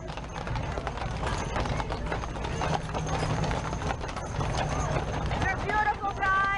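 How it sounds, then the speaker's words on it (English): Clydesdale horses clip-clop their hooves at The Big E fair, a busy patter of hoofbeats under a constant murmur of crowd chatter and nearby voices. "Everybody loves these horses."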